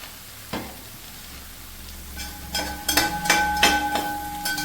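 Soya chunks dropped into a hot pan for a pepper roast give a soft thump, then a bright sizzle that builds and stays steady, with sharp crackling spits and clinks close by.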